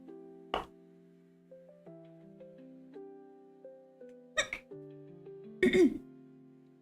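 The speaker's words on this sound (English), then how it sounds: "Sorry, hiccups." Three sharp, abrupt hiccups from a person, spaced out and close, heard over a soft, steady electronic melody playing in the background.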